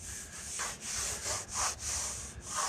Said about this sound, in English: You could use a hand block if you don't have an orbital sander and just block this in an X pattern to get this straight.